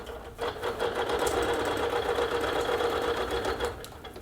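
A sewing machine runs steadily for a few seconds while a quilt top is basted, a continuous close whirring stitch with an even mechanical rhythm and nothing else over it.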